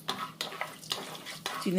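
Peanuts fry in hot refined oil in a wok while a spoon stirs them, giving about four quick scraping strokes over a steady bright sizzle.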